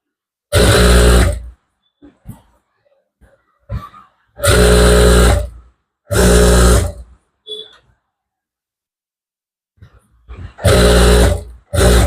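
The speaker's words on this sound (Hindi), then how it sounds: "और एक सिलाई ऊपर लगाइए" Sewing machine stitching a Punjabi salwar, running in four loud, steady bursts of about one second each, with brief pauses and faint handling noises between runs.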